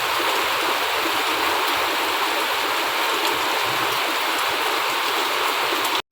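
Rainwater overflowing from a completely full roadside drain rushes in a steady, loud, broadband wash that stays constant throughout and cuts off abruptly at the end.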